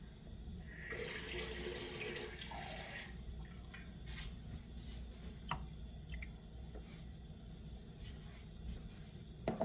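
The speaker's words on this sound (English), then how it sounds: "I need to add a little more water into that." A faint stream of water pours for a couple of seconds, then stops, followed by quiet clinks and small handling sounds.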